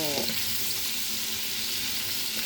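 Shrimp sizzling and frying in a pan, a steady broad hiss with a brief stir at the start, close and unbroken throughout.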